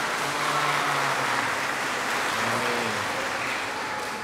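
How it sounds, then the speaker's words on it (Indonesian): Dense, steady applause from a church congregation honoring children after their singing performance, a loud continuous wash of clapping that lasts throughout without pause. "Kita beri aplaus untuk anak-anak kita."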